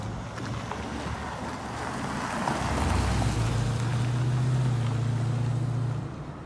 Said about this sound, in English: It sounds absolutely incredible, the engine in the car.